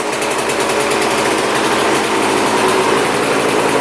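A cheap used dirt bike idles steadily after a revving check, its engine giving a loud, constant buzzing drone with fast, even pulsing and no talk.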